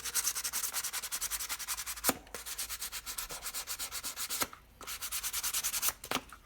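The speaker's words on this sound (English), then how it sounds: "I'm never scared to take the sandpaper to it." Sandpaper scrubs back and forth over stiff buckskin leather, nearly as hard as wood, for a knife sheath, making rapid, rhythmic rasping strokes close up, with a few brief pauses between bursts.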